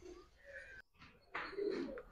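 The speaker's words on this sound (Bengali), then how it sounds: "সবার প্রিয় একটা কবুতর দেখাই" A Budapest high-flyer pigeon, a male sitting on eggs, coos softly at close range in two low, throaty phrases, faint and alone with no talk.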